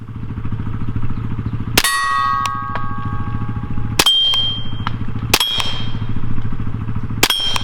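Rounds from a Sig P322 .22 pistol striking a 3-inch steel plate target at about 12 yards, four sharp metallic clangs with ringing tails spaced a couple of seconds apart over a steady background hum.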